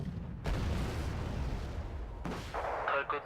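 A tank gun fires a side shot in a video game: a sudden loud boom with a rumbling tail, then a second sharp blast and a burst of crackling impact noise near the end.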